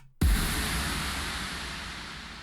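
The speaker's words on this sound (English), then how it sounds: "And then we have a big impact sound," A sudden deep boom hits after a brief quiet moment, followed by a long rumbling, noisy tail that gradually decays.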